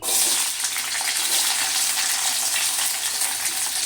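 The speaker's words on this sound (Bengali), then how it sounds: "এবার আমি ক্যাপসিকামটাও ভেজে নেব।" Capsicum frying in hot oil for vegetarian khichuri, a steady, dense sizzle with bright crackle that stays loud and even throughout, with no talking.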